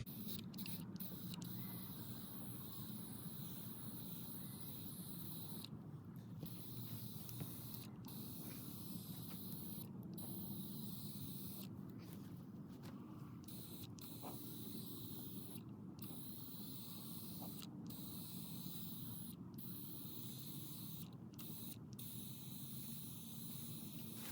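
A spray can of primer hisses in repeated bursts with brief pauses between them, close up and steady against a quiet background, spraying parts of a 1972 Ford F250.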